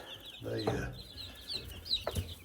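Egg-laying hens and breeder chickens cluck softly in a coop, with a few scattered calls close by.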